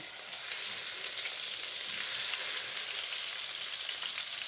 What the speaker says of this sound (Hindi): यहाँ मैं डालूँगी लहसुन अदरक की क्यूब